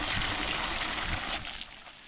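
Water splashes and trickles steadily onto a young coconut palm seedling in a Konkan home garden, close and fairly loud, fading slightly toward the end with no talk.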